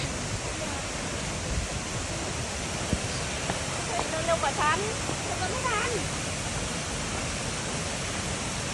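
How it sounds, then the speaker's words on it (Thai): Rushing water from a waterfall at Wat Chirathan on Doi Inthanon makes a loud, steady broadband roar that fills the whole scene, with voices speaking over it. "น้ำตกวัดชิรทร"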